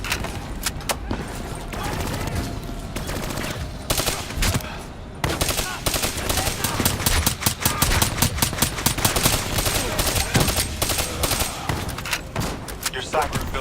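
Rapid turret gunfire in Call of Duty Black Ops 3, loud sustained bursts of automatic shots with a short pause, close and dense over game background noise.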